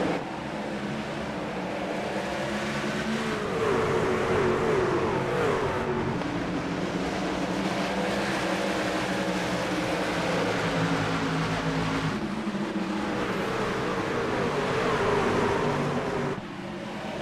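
Race truck engines from the AREA Truck Series at Bristol in the iRacing sim roar together on a restart, a loud sustained engine drone with rising revs that holds steady throughout with no talk.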